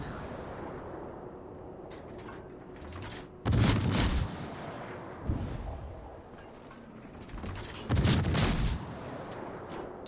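Artillery shells firing in the Warhammer strategy game Dawn of War: two loud, close booms several seconds apart with a smaller thump between, over a low rumbling battlefield bed.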